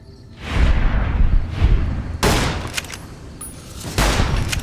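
Gunfire in Fallout New Vegas, modded, against respawning enemies: repeated heavy bursts of shots with booming thuds, four loud volleys in under five seconds, close and without talk.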